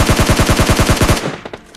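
Rapid automatic gunfire in a battle royale shooter video game, a fast even burst of about a dozen loud close shots that cuts off abruptly, followed by faint scattered clicks.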